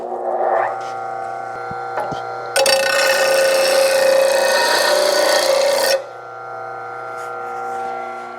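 File or blade sharpener rasping along the edge of a rusty lawn mower blade on a Grasshopper 900D mower, one steady harsh scraping stroke lasting a few seconds over a constant hum, close and loud.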